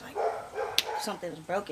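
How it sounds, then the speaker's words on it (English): A neighbor's dog barks a few times in the background, faint and distant, underneath steady close talking by a woman. "sorry about the dog in the background."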